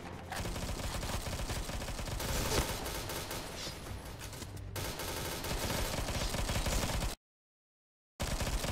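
Loud, dense gunfire fills an online shooter game during a run of headshots, a nearly continuous volley that cuts to a brief silence near the end and then resumes.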